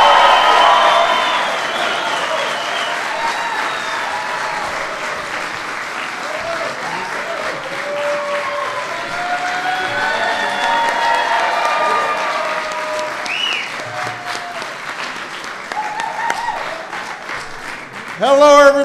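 Crowd applauding and cheering at a White House St. Patrick's Day reception, sustained loud clapping with scattered whoops and voices throughout, swelling again at the end.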